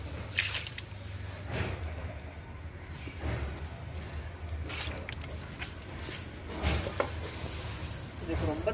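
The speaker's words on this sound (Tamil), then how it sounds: "இப்போ நம்ம தண்ணி ஊற்றலாம்" Water poured onto a potted sugarcane plant gives soft trickling, dripping and squishy soaking sounds in uneven bursts, close by.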